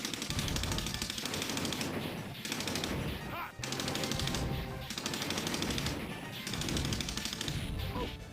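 Relentless gunfire in The Punisher coin-op arcade game, rapid machine-gun bursts rattling almost without pause amid game music and crashes, loud and dense throughout.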